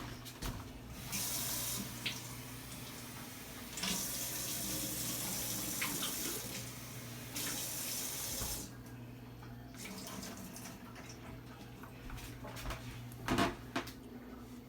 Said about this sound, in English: I'm going to rinse them off in a container.